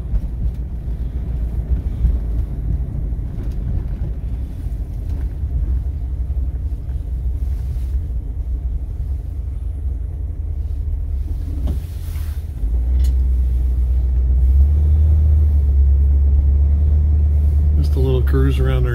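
A 1957 Ford Thunderbird cruising through a neighborhood: a low, steady engine rumble with road and wind noise throughout, the drone deepening and growing louder partway through, with a voice talking faintly over it.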